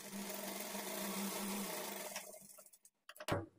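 Sewing machine stitches a blouse edge with a steady continuous whir that stops partway, followed by a few brief clicks and handling knocks near the end.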